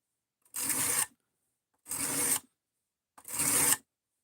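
Three deliberate strokes of a cheap Amazon kitchen knife drawn by hand across a coarse sharpening stone, each rasping scrape lasting about half a second, separated by pauses of roughly a second, close and clear with no talking.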